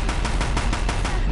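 Rapid automatic gunfire from Horizon Zero Dawn gameplay, a steady burst of shots about every sixth of a second, loud and close over a dense rumbling low end, with no talk.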